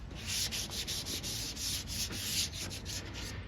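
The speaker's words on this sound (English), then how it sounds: "I'm gonna sand down the rest of this" Guide coat on a Chevy dually pickup bed is block sanded by hand, a close, steady raspy scrubbing in rapid back-and-forth strokes with no voices.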